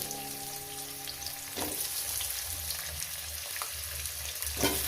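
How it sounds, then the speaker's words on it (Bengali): Salted potatoes fry in a pan with an even, close crackling sizzle, broken by a few sharp stirring scrapes, while a faint tonal hum fades out in the first seconds. "একটু লবণ দিয়ে দেবো যাতে আলুটা সুন্দর করে ভাজা হয়"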